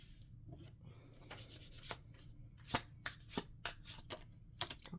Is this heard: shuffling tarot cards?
yes